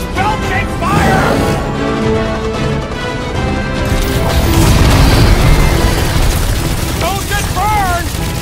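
Gunfire and explosions in a battle in Marvel's Guardians of the Galaxy video game: a dense, loud din of booms and bursts layered with whistling tones, with voices calling out over the action.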